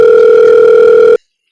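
A telephone dial tone plays loud and steady for about a second during a phone call, a single unbroken hum that then cuts off abruptly into silence.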